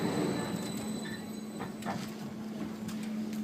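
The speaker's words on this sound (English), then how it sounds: "Here's our train." A Kassel Straßenbahn streetcar arrives with a steady low rumble, a sustained tonal whine and faint high squeal of wheels on rails, loud and close throughout with no talking.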